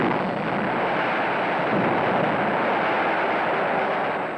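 A dense, continuous rumble of a mine explosion rolls through a 1937 archival newsreel soundtrack, loud and unbroken with a grainy, muffled texture throughout.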